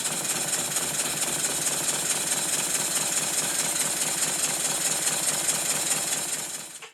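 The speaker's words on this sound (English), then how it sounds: "Here's a clip of the engine running," A twin-cylinder Tangye engine running in a workshop, a steady rapid rhythmic chugging and knocking with mechanical clatter, close and even throughout before cutting off at the end.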